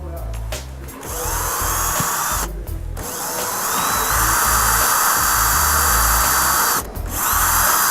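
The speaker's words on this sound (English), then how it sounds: "it has to be drilled through the plastic bit and the tilt rod." A power drill runs loud and close as it bores through a plastic vertical blind headrail and tilt rod, a sustained high whir broken by two brief pauses, with a grinding edge as the bit bites.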